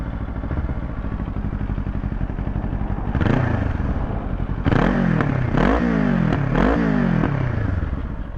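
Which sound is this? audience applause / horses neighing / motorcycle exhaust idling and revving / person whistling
motorcycle exhaust idling and revving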